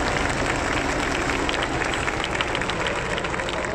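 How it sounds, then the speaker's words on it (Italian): Large outdoor crowd at a Frecce Tricolori air show applauds in a steady, dense wash of clapping that stays constant throughout, with no distinct voices standing out. "accogliamo con un caloroso applauso le voci di terza"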